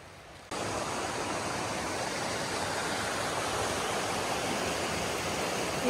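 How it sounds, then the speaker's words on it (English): A river in a mossy glen rushes steadily with dense broadband water noise, close and constant after a brief quieter start, with no voices. "Here's the river."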